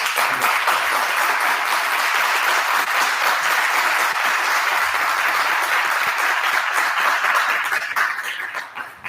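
An audience at a talk on the history of drugs breaks into sustained applause, dense and loud clapping from many hands that carries steadily and then tapers off at the end.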